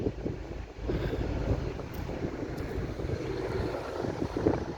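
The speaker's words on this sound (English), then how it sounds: "Where's that plane going?" Distant airplane engine drones steadily overhead beneath low clouds at Corralejo port, Fuerteventura, in the Canary Islands, partly masked by constant wind rumble on the microphone; no one speaks.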